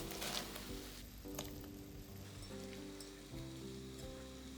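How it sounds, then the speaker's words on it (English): A pot of soy-sauce-based pickle sauce for Japanese fukujinzuke heats toward a boil, giving a steady, quiet sizzling bubble with faint tonal hum underneath, close and continuous without voices. "The sauce starts to boil."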